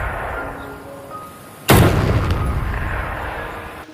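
One sharp, powerful sniper rifle shot cracks out and then rolls into a long, fading echo, heard alone outdoors.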